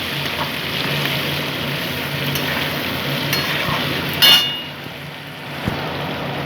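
Ginger paste and ground cumin frying in a pan while being stirred, a steady broadband sizzle running throughout, close and fairly loud, with a brief scrape or clatter of the spoon partway through.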